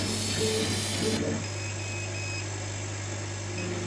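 Laser cutter running at 65% maximum and 10% minimum power, a steady mechanical hum with a constant low drone and faint whirring throughout, no speech over it.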